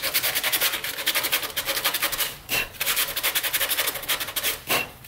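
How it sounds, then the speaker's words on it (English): Sandpaper rubbed by hand over metal to strip paint down to bare metal on a V8-swapped Ford Ranger's cooling fan mount, a loud, close, rhythmic scraping with brief pauses between strokes. "took some sandpaper, ground the metal down"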